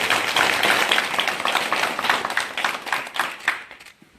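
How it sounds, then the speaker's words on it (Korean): An audience applauds at a press meeting with a presidential candidate in Jeju, starting as dense clapping and thinning into scattered claps before stopping. "박수 한번 다시 보내주시기 바랍니다."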